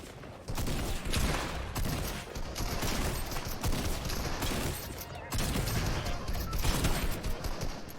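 Rapid sustained gunfire in a shooter video game, dense loud bursts of shots running almost continuously with a brief break midway, and a voice faintly underneath.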